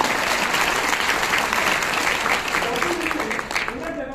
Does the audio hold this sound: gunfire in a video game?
no